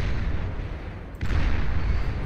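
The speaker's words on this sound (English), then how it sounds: "Those Shiva missiles are very powerful." Shiva missiles firing in the strategy game Beyond All Reason, heavy booming launches and rumbling blasts in a loud, dense barrage with a brief dip before a second surge.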